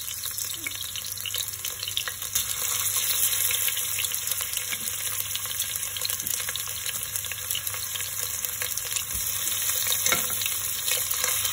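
Spare ribs frying in olive oil give a steady, close hiss and crackle that runs unbroken the whole time, with faint scraping of stirring now and then.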